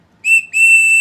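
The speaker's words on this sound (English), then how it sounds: "And then there's the whistle" A small whistle blown sharply, giving two loud, shrill blasts: a short one, then after a brief gap a longer sustained one, close by and with no talk.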